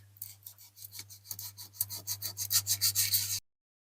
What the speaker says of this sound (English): So what I'll do is I'll get some low grit sandpaper next on here.